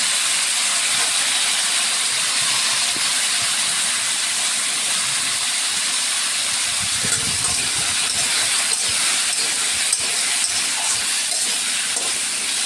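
Steady loud hiss and sizzle of squash and potato pieces frying in hot oil with a little turmeric, continuous throughout with occasional soft stirring knocks beneath.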